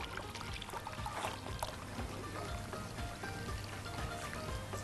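Boiling water pours steadily into a measuring cup with a continuous splashing, gurgling rush, close and fairly loud throughout.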